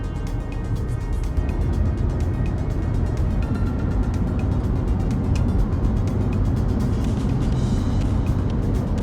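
A 2021 Audi Q3 on a test drive gives a steady, loud cabin drone of engine and road noise, continuous and unbroken, with no talking.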